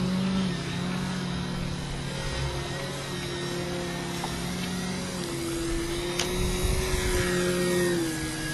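Engine drone of a small airplane during a turn with the throttle increased, a steady hum whose pitch slowly rises, continuous and fairly loud with no talk.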